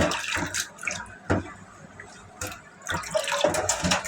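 Dhoinna leaves are swished and rinsed by hand in water, giving intermittent splashes and sloshes with short drips between them, quiet and close.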